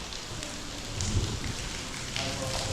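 Rain falls steadily in Doumen Old Town, Zhuhai, a dense close patter on surfaces with a few louder drops and faint background noise throughout.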